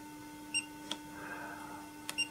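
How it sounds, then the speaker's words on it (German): A DOVOH 360 cross-line laser level gives short electronic beeps, two brief pairs of tones spaced across a couple of seconds over a faint steady electrical hum, close by with no talking. "fängt das Gerät an zu blinken und zu piepsen"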